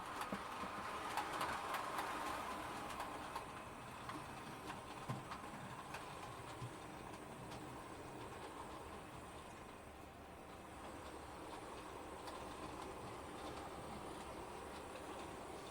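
A model railway train coming out of the sidings, with a soft continuous rolling rumble and faint rapid clicking of small wheels on track, slightly louder at the start then steady.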